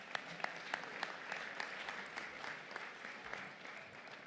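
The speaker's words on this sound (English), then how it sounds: "Give them a round of applause." An award ceremony dinner audience gives a fairly quiet round of applause, with individual claps standing out from a soft, even patter that keeps going for several seconds.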